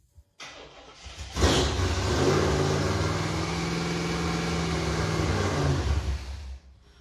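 A Chevrolet Impala project car with a newly fuel-injected engine fires up after a short crank, revs up hard and holds a loud, rough roar for several seconds before stalling and dying out.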